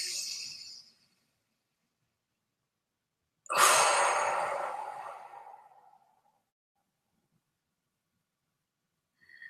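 Slow, deep breathing during a guided breathing exercise: a soft breath trails off at the start, then one long, full exhale swells up and fades over a few seconds, followed by quiet and the faint start of another breath, with no talking.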